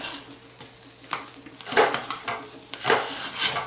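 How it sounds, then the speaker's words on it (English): A utensil scrapes around the edges of a crockpot of hot-process soap made with turmeric and paprika, giving a few rough scraping strokes and light taps against the pot. "I'm going to scrape the edges."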